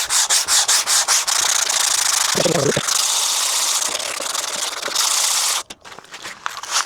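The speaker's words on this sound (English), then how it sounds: "So this is now 120 grit, and I'm going to perhaps wrap a bit of this in a bit of wood and some old-fashioned elbow grease." A timber cutting board is hand sanded with 120 grit sandpaper wrapped around a wood block, making rhythmic rasping strokes up close that merge into sustained scrubbing before stopping near the end.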